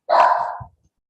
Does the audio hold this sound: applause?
no